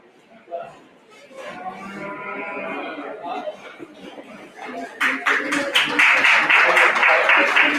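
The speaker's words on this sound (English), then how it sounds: "let's give him one last round of applause" Audience applause for the champion steer at an FFA stock show, rising from murmuring crowd noise into sustained, fairly loud clapping over the final seconds.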